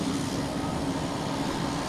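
A United Airlines Boeing 737-800 airliner comes in to land at Boston Logan, over the lagoon, its engines a steady, broad jet roar held at an even level throughout.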